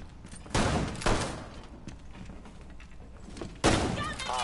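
Gunfire in the tactical shooter Rainbow Six Siege: a sharp burst of shots, a second volley a half second later, then a quieter stretch before another loud crack, with voices faintly mixed under the action.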